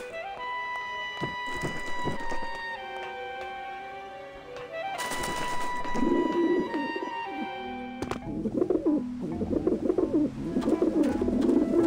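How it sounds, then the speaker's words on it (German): Pigeons in the video game Grim Fandango coo in repeated soft bursts over a steady game music score, with a few thunks mixed in. "Da man offensichtlich die Tauben nicht nur einfach füttern soll, sondern ja verjagen,"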